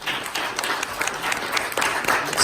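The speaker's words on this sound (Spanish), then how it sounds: "Démosle un fuerte aplauso al Señor." Loud applause from a church congregation, with many hands clapping briskly, some sharp individual claps standing out, and the sound swelling toward the end.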